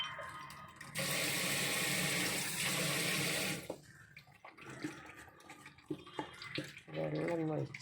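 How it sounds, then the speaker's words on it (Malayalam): Water runs into a pot of beef being cooked in a traditional style, a loud, steady gush lasting about three seconds. Quieter kitchen clatter and brief faint voices follow, then a short second splash near the end. "വെള്ളം ഒഴിച്ച് കൊടുക്കുക."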